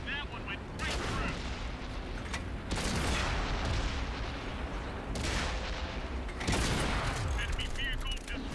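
Tank cannon fire and explosions in the video game World of Tanks, several heavy booms over dense rumbling battle noise, close and loud, with game voice lines mixed in.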